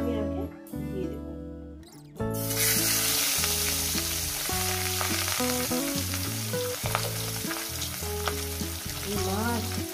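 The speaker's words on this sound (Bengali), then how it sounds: "মাছগুলোকে সুন্দর করে একটু ভেজে নেব" Katla fish pieces frying in hot oil, a loud continuous sizzle and crackle close by, with utensil knocks and a brief break near the start; a voice talks over the frying.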